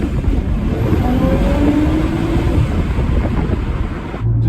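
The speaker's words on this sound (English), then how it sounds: "Driving the car a bit harder here, and between gears when you're shifting hard, feels really good." Audi B5 A4/S4 driven hard through the gears, heard as a loud, continuous low engine and road rumble from inside the car, with wind noise over it and a brief dip near the end.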